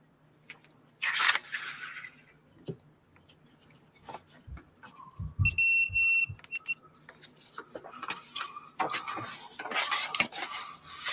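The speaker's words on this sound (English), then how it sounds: "What's beeping in there? Continuity tester." Amid clinks and rustling of handled objects, a continuity tester gives a steady electronic beep for about a second, high and tonal, with brief speech-like noises around it.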